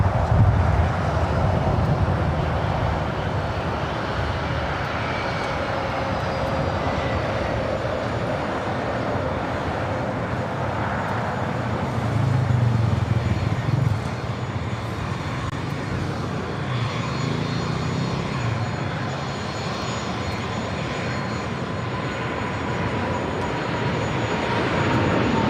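An Asiana Cargo Boeing 747 at LAX takes off with a long, steady jet roar that swells slightly midway and keeps rumbling evenly, with no voices.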